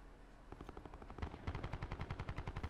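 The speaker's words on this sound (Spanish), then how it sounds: "Por allí hay tiros." Call of Duty: Black Ops 4 Blackout battle royale gunfire rattles in rapid automatic bursts, sparse at first and then a steady fast volley growing louder, with no speech.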